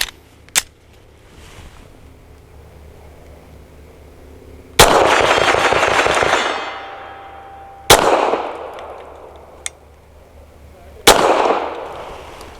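A Canik METE SF 9mm pistol fires 158 grain PPU subsonic rounds: four sharp, loud shots spaced a few seconds apart outdoors, each with a ringing tail, plus a couple of faint clicks between.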